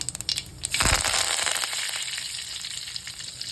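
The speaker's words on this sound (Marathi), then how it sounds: "तापलं की जिरे टाकायचे जिरे मोहरी दोन्ही टाकायचं कढीपत्ता टाकायचा" Cumin and mustard seeds hit hot oil in a kadai with a loud burst of sizzling, then settle into a steady crackling hiss that fades slowly, close up, with no talking.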